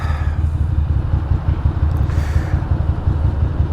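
Ducati Monster 620 motorcycle engine running steadily close by, a deep continuous low rumble with a brief rise in mid-range noise around the middle, no voices.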